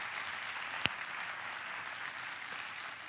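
Theatre audience applauding at a Venetian song festival in Mestre, a steady, fairly soft wash of many hands clapping throughout, with one sharp louder clap standing out near the start.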